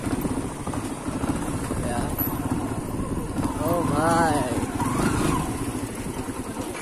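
A new Bajaj Pulsar NS200 BS6 motorcycle engine idles and revs at a Bajaj dealership, a steady close rumble that swells briefly, with people talking over it.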